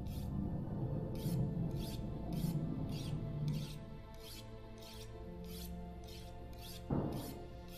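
A knife is sharpened on a whetstone in The Long Dark, a run of about a dozen quick, even rasping strokes at close range with a low wind-like hum underneath and no voices.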